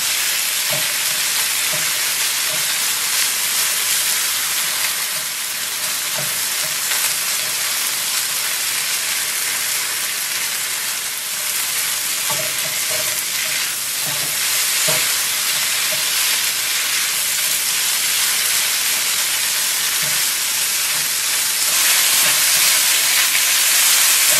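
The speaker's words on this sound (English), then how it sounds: "now I'm going to try to flip it and stir it around" Beef stir-fried in a wok, a loud, steady roaring sizzle with hissing steam that holds throughout, punctuated by intermittent scraping and clanks of the utensil as the meat is flipped and stirred, swelling toward the end.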